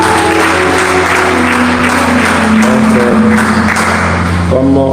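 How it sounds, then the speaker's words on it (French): A church congregation applauds to praise the Lord, with loud, dense, sustained clapping from a large crowd and a few voices and tones rising beneath it. "Est-ce qu'on peut acclamer le Seigneur?"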